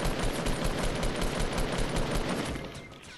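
Rapid, loud gunfire bursts in Fortnite, a dense fusillade of shots that fades slightly at the end, with no talk.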